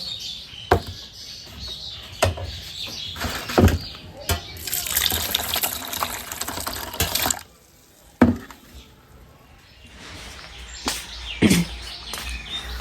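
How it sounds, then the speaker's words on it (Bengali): Red lentils and potatoes being washed by hand in a pot, water sloshing and splashing in several bursts with clinks against the vessel and a stretch of steady running water, birds chirping faintly outside. "বেশি করে একটু মুসুর ডাল দিয়ে চলো এবার ভালো করে এটাকে ধুয়ে নিই।"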